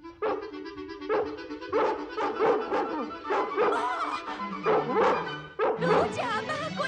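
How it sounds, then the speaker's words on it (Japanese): Dalmatian puppies in an animated film yip and bark excitedly, many small dogs overlapping in rapid repeated barks and whimpers, close and lively throughout. "子犬たちがいないなんて。 今でも時々鳴き声が聞こえましてね。"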